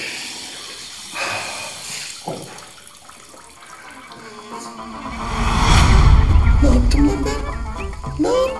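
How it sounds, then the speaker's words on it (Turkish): A toilet flush rises into a loud rushing surge of water partway through, after sparse handling noises, with some indistinct sounds around it. "Sifonu niye çektin?"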